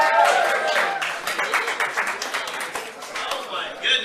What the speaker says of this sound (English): thank you so much for that very spattered applause